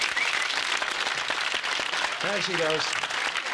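A studio audience at a National Lottery game show applauds loudly and continuously, dense clapping with someone speaking briefly over it near the end.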